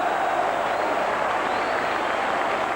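Roar of the football crowd at Tynecastle as Hearts attack against Celtic, a steady, dense wash of distant cheering and noise sustained evenly without breaks.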